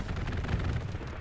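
Grenade blast in the WWII shooter Hell Let Loose during a battle at Stalingrad: a loud, close, rumbling burst that fills the whole moment with no speech over it.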